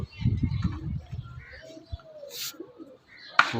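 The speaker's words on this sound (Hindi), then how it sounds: "ये ऊपर उड़ भी रहे हैं कबूतर" Pigeons coo softly at close range, then wings flutter briefly as trained pigeons are made to take flight, with a faint chirp and a little background noise.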